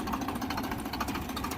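A Deutz-Fahr 55 HP tractor engine runs steadily close by, a continuous mid-pitched diesel rumble with a knocking texture and no speech over it.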